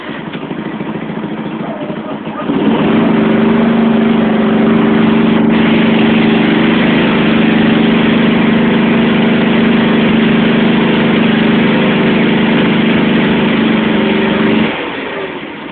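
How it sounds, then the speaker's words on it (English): John Deere 325 engine idling after a cold start, a low steady droning rumble that kicks in after quieter background, runs evenly for about twelve seconds and then cuts off, loud and close. "I like this engine because it runs really smoothly"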